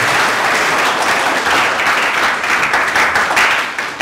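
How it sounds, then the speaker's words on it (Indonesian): Audience applause at a school interfaith discussion, a dense steady wash of clapping filling the whole stretch at full loudness, with no voices over it. "Itu tepuk tangan"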